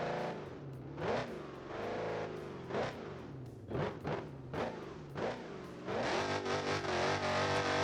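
A Dodge Hellcat drag car in BeamNG Drive revs hard, the engine swelling and dropping in a series of loud throttle blips, then settling into a sustained high roar near the end.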